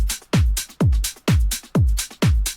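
Tech house drum loop built from a Splice top loop with added open hi-hats and a punchy kick, thumping in a steady four-on-the-floor pulse with bright hats between beats, loud and alone.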